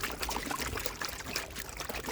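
Water poured over wet, crushed gold ore from a homemade jaw crusher, a steady close trickle and splash running the whole time with no talk.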